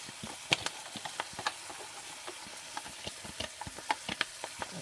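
Onions sautéing in a pan for gravy, with scattered sharp clicks and light scraping over a soft, steady sizzle, close and fairly quiet, with no talking.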